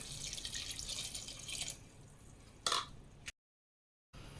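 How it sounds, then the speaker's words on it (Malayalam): A cup of water poured into a pan of ripe plantain pulissery makes a soft, fairly faint splashing trickle that fades into a few drips, followed by a short burst and then a moment of silence. "ഇനി നമുക്കിതിലേക്ക് ഒരു കപ്പ് വെള്ളം ഒഴിച്ചു കൊടുക്കാം"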